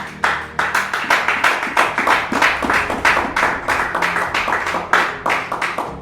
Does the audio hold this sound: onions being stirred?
no